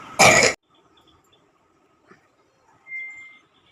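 A single loud, close cough from a sick person, followed by quiet room tone with faint distant sounds and a brief later noise.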